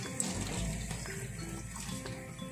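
Running water gushes steadily from a tap as cut cauliflower florets are washed, a close, continuous splashing flow with no talk.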